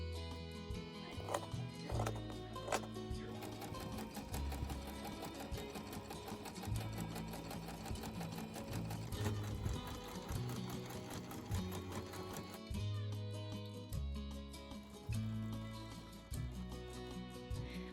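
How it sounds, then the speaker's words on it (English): A sewing machine runs steadily with a fast, even whir while straight-stitching the side and shoulder seams of a cloak. It is quiet and largely masked by continuous background music. "I chose to finish the side seams and shoulder seams with a basic straight stitch"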